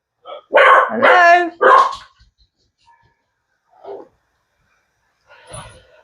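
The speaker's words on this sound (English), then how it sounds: "You barked. You did." A dog lets out a few close barks, a quick cluster of loud yaps followed by fainter single barks after pauses, with a brief spoken word in between.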